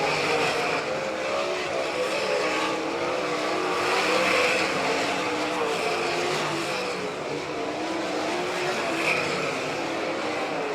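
Sprint race cars roaring around a dirt oval at Doniphan, Nebraska, in an All Stars versus NCRA event: a continuous loud engine drone that swells and recedes as cars pass, with faint tire squeal.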